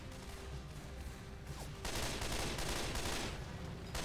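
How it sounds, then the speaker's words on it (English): A burst rifle firing in Left 4 Dead 2, heard as a thick wash of rapid gunfire that swells louder and denser about halfway through before easing slightly. "It's a burst rifle."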